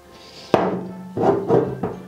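A sharp metallic strike followed by three softer knocks spaced irregularly, a hammer tapping on something solid nearby while fitting an inverted fork to a Harley-Davidson Sportster 1200 motorcycle.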